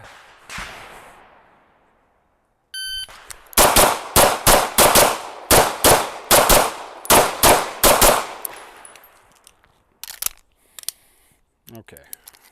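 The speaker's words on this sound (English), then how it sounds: "now we'll put in the live ammo" Live-ammunition handgun shots in a shooting drill crack out in a fast string of about a dozen sharp, loud reports, then a few scattered later shots, each with a short echo tail.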